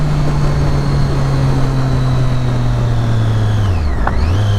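A Triumph Daytona 675 with an SC Project exhaust idles with a steady, loud drone, then a brief throttle blip near the end sharply lifts and drops the engine note during rev matching.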